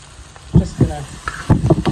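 Mutton dropped into a very hot pot for a vegetarian-style curry, giving bursts of sizzling and stirring scrapes that come in clustered pulses with quieter gaps, with some background voice.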